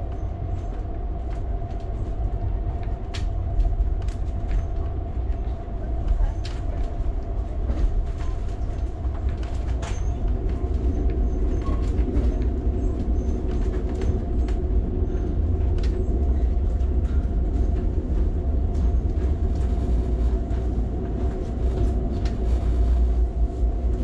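An Amtrak California Zephyr passenger train descending from the Rockies toward Denver, Colorado, heard from aboard: a loud, continuous rolling rumble with rail clicks and squeals throughout.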